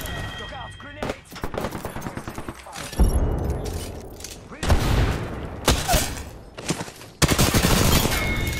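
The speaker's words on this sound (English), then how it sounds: "Look out, grenade!" Rapid gunfire bursts and a heavy grenade blast in the battle royale shooter Apex Legends, loud and close, coming in several separate volleys while players talk over the action.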